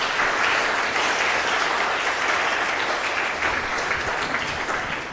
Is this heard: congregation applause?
yes